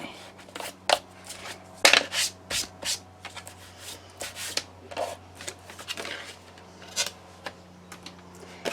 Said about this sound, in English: I'm just going to rub out that extra line that I did, the one that I did wrong.